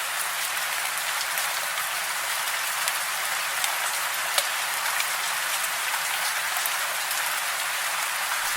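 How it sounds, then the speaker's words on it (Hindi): Heavy rain pours down steadily, a dense, even hiss of drops hitting surfaces with no break throughout, loud and close, with no voices. "बारिश रुकने का नाम ही नहीं ले रही है।"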